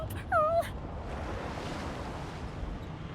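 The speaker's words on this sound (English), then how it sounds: "The dog whines and continues pawing at its nose." A dog whines briefly in Divinity: Original Sin 2, a short rising-and-falling whimper near the start, then steady wind or surf-like ambience carrying on alone.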